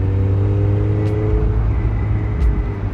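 Mazda MX-5 convertible driving, a steady close engine drone with low hum throughout and two brief hissing swishes, loud and continuous with no talk.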